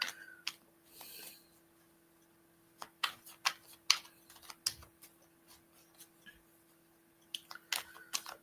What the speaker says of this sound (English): I'll wait for your reply while I give the cards a shuffle.